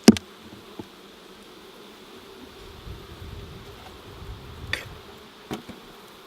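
Honeybees buzz steadily around a hive super on a farm, a continuous hum with a few sharper knocks and rustles and no talking.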